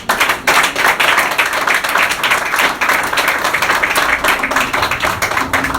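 A church congregation claps and cheers loudly and continuously, dense applause filling the space close by, with no speech over it.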